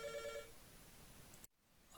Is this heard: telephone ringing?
yes